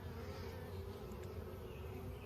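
Honeybees swarm and drone inside an opened hive box, a steady, dense buzz that holds even and close throughout with no talking.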